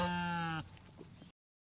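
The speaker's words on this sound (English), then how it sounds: "sheep." A single sheep gives a short, strongly voiced bleat lasting about half a second, followed by a brief stretch of quiet, rustling farmyard noise.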